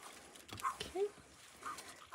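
A dog whines outside in short, faint, high whimpers that come in a few brief bursts over quiet background noise.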